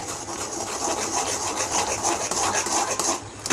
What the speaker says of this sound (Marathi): आणि चण्याचं पीठ हेच आपल्याला चाळूनच घ्यायचं आहे।